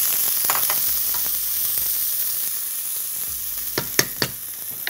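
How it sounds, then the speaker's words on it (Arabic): Onions frying in oil in a very hot pot, a loud continuous sizzle with several sharper crackles and pops toward the end, with no talking. "عندي حله سخنه جدا كده اقوم حاطط فيها شويه زيت، ممكن بقى سمنه، زبده، اي حاجه نطعم بيها، او منازل على طول بالبصل"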